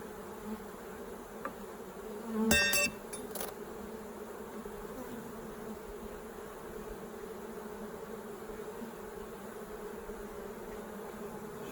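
Honeybees drone steadily around an open beehive during a hive inspection, a constant close buzz filling the whole stretch, with a brief louder burst of buzzing and handling noise early on.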